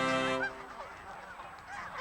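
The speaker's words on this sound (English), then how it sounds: "Here they come, eh? Canada geese in for a perfect" Canada geese honk as they come in to land on Westchester Lagoon in Anchorage, Alaska, with a loud, close honk at the start followed by quieter, scattered calls and splashy background noise.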